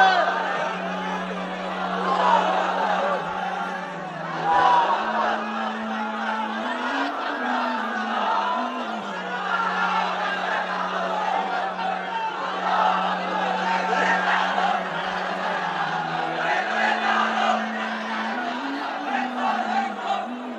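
A crowd chants slogans in loud, rhythmic unison with a steady droning pitch, the shouted phrases repeating and rising and falling over about twenty seconds.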